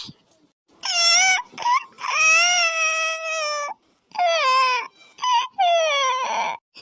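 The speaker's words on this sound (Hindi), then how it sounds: "अरे ये तो छोटी के रोने की आवाज है" A young child cries loudly nearby in long wailing bursts with short breaths and whimpers between them.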